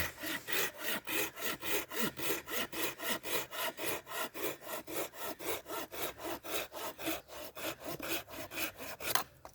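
Tenju 240 hand saw cutting through a thin wooden branch, with steady, rhythmic back-and-forth rasping strokes, about three per second, loud and close and heard alone without talk.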